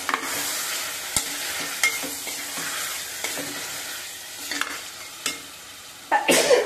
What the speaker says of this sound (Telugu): నూనెలో వేసేసి చక్కగా ఇలా తిప్పుకుంటూ